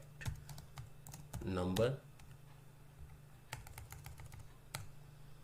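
Keyboard typing while entering data in an Excel spreadsheet: faint scattered key clicks under a quiet voice that speaks briefly.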